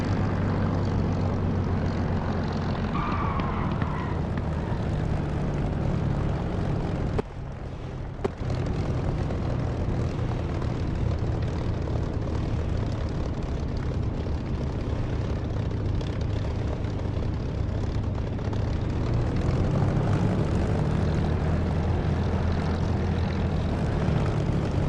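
Propeller aircraft engine in the DCS flight simulator game after a hot start, a steady loud buzzing drone lasting the whole stretch with one brief dip in the middle, no voices.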